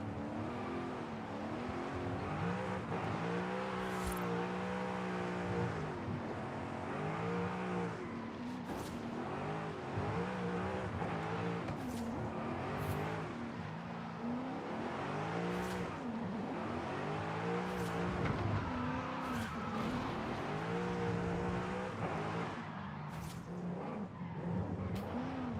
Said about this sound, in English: I'm glad I took the drift tires too, because that makes this more fun to drift around.